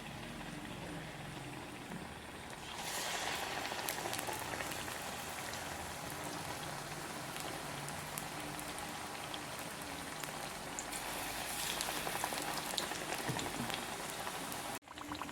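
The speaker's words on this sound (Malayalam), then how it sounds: "അപ്പോൾ ഇതാ നമ്മളെ സ്നാക്ക് ഇതാ നല്ല ഫ്രൈ ആയി വരുന്നുണ്ട്." Potato snack frying in hot oil on a low flame, a steady dense crackle and sizzle that grows slightly busier after a few seconds and continues throughout, close and even, no voices.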